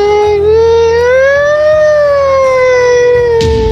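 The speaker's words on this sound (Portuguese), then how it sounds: "É ambulância" An ambulance siren wails loud and close, one long rising and falling tone sweeping steadily over several seconds with a low rumble of traffic underneath.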